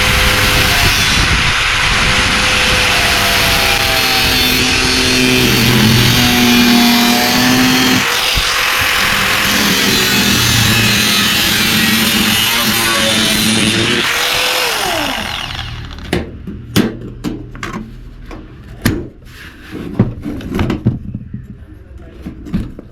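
A small-bladed power tool cuts a motorcycle mudguard part for fitting a KTM Duke 200 mudguard on an NS bike, a loud sustained whine with shifting pitch for about fifteen seconds, then dying into scattered clicks and knocks.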